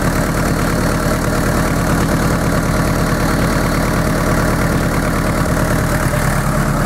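Car engine fitted with a Turbonetics turbo, newly plumbed with coolant waterlines, idles steadily at close range with a continuous low rumble and faint vibration, no talking.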